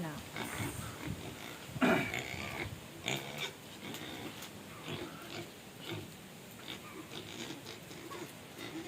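A pig grunts and oinks in short irregular bursts on a farm, fairly faint, with people talking nearby and some clattering in the background.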